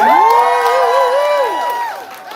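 A live poetry event audience cheers and whoops loudly for a poet, a brief burst of bright voices and hollering that swells at once and then tapers off.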